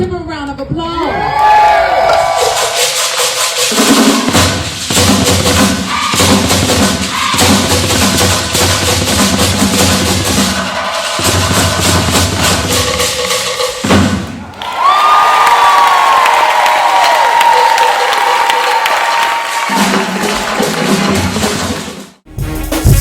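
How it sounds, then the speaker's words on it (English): A large crowd at a celebration honouring Egun Omode ancestors cheers, whoops and shouts loudly and continuously, with children's voices and some thumps mixed in, breaking briefly before surging again. "Give a round of applause."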